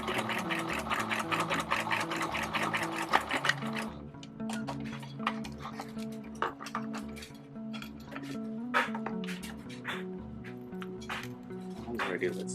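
A sewing machine runs in short bursts of rapid, steady stitching while top stitching a curved fly-front zipper on trousers. The machine is close and fairly quiet, and a voice talks between and over the runs.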